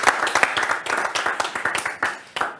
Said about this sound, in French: On peut vous applaudir et vous pouvez vous applaudir